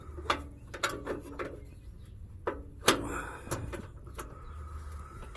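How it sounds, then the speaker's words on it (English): A wrench works an O2 sensor on a Mitsubishi Evo X. It gives a series of metallic clicks and ratcheting knocks at irregular intervals, fairly close, with one louder clank midway. "Or just get the wrench on there."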